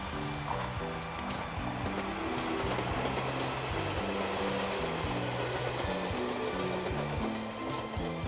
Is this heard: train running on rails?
yes